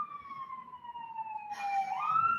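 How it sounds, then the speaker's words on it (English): An emergency siren wails outside at a moderate distance in one long falling tone, then rises again, with faint background noise beneath it. "There's a siren outside."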